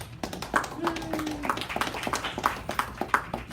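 An audience at a nutrition workshop applauds, scattered and fairly light claps from a modest crowd in a room, steady but uneven, with some voices mixed in.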